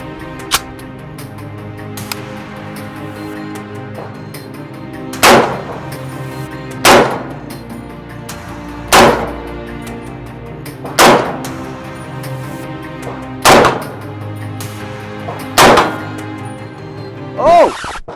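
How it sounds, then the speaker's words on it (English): Shotgun firing at an outdoor shooting range: seven loud, sharp booming blasts spaced roughly two seconds apart, each with a short ringing tail over low background noise and no talk. "Favorite shotgun of all time."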